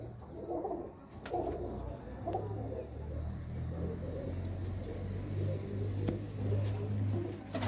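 Red pigeons cooing in a pigeon club loft, soft repeated low coos close by over a steady low rumble, with a faint voice now and then.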